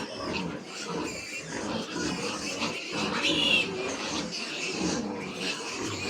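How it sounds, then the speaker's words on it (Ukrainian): Pigs squeal and shriek loudly in a farrowing pen, a dense continuous chorus of overlapping cries with a sharp high squeal standing out midway, and faint voices in the background. "Дивіться такий гвалт, що це жах. Крик такий."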